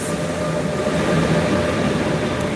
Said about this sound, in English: bye bye train it left us